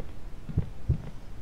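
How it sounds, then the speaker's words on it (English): A heartbeat in the horror game Tape: two soft, low, muffled thumps close together in a single lub-dub beat over a quiet humming background. "what is the heartbeat about?"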